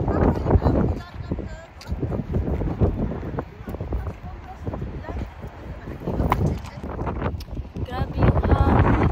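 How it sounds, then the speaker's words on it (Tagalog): Strong gusts buffet the microphone on a bridge in Kobe, Japan, a loud rumbling roar that surges and dips throughout, with people talking in between. "Grabe yung hangin."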